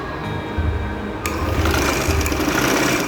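A sewing machine runs steadily close by, stitching along the neckline of a summer dress, its motor hum continuous throughout with a slight rise in intensity partway through.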